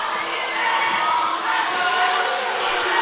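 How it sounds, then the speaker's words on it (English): High school boys basketball crowd in a gym reacting with a sustained, loud roar of disapproval after a foul call, a dense wash of voices filling the space throughout. "Crowd doesn't like that one."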